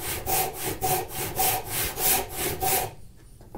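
A handsaw cuts through a mahogany board in even back-and-forth strokes, about ten rhythmic rasps close up, then stops and leaves faint room noise.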